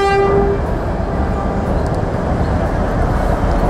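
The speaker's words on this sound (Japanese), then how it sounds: "あー、列車が来ましたね" A passenger train hauled by a locomotive at the head arrives at a station in rural Shizuoka and sounds a loud, brief horn blast at the start, followed by a heavy, steady rolling rumble.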